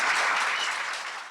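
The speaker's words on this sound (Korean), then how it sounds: "박수 한번 쳐주세요" A studio audience gives a burst of steady, dense applause for a departing lawmaker guest on a Korean talk show, loud at first and tapering slightly over a second and a half with no voices.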